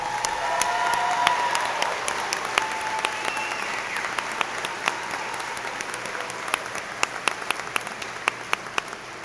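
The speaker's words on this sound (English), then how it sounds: "let's applaud these members of our Honor Society." A commencement audience applauds members of the Phi Theta Kappa honor society, a sustained wash of many hands clapping that starts full and gradually thins, with sharp individual claps standing out toward the end.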